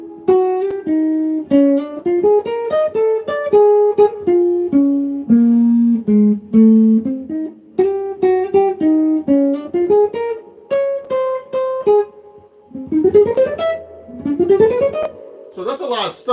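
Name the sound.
slow playing of a jazz tune melody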